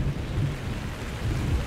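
Rain pours steadily in Minecraft Story Mode, with low thunder rumbling underneath in a dense, continuous wash of noise and no talk.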